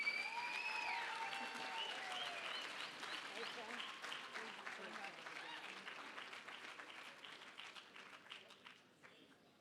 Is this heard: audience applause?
yes